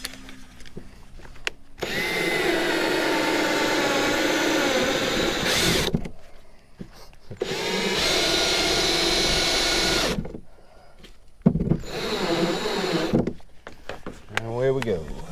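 A power drill screws a mounting plate into a kayak in bursts of steady whirring, close and fairly loud, separated by pauses, with speech at times in the breaks.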